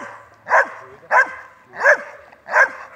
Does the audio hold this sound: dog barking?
yes